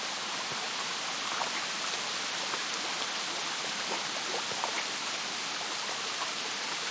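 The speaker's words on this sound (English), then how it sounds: "I like how the way the water ripples around this rock here." Water in Kingdom Come rippling and burbling around a rock, a steady, close wash of flowing stream noise with faint droplet-like splashes, no voices.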